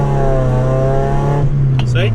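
A car engine drones and climbs steadily in pitch as it accelerates, with a short burst of voices near the end.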